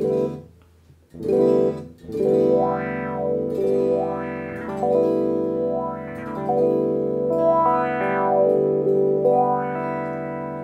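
Sustained electric guitar chords run through a Donner wah pedal, with a sweeping filter that rises and falls in a slow, regular cycle, loud and close.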